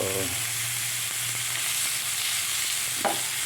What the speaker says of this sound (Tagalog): So lumalabas na yung kanyang mantika. Comes from the fat ng beef.